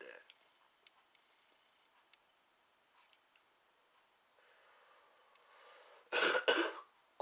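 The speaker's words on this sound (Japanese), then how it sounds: "こんな咳なんですよ、空咳というか。" A short, dry, hacking cough from a man with a persistent cough, a single close burst near the end after a quiet stretch with faint rustles.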